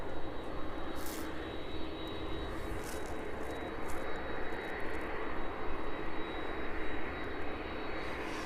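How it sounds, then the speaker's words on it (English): Aircraft engines run steadily at East Midlands Airport, a broad, continuous roar of aircraft activity heard from a distance, with no talking over it. "so the Spitfire is also making its way out"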